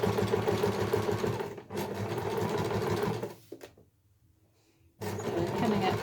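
A sewing machine stitches a fabric eco shopper bag, its close, steady mechanical whirr running in bursts, pausing briefly, dropping to near silence, then starting up again.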